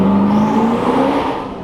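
Hennessey Venom GT supercar accelerating hard with a little wheel spin, a loud, close engine roar with a strong steady whine and a rising pitch that eases slightly toward the end.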